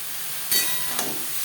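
Data greens are tossed into onions frying in oil, a constant close hiss that surges briefly twice as the leaves hit the pan.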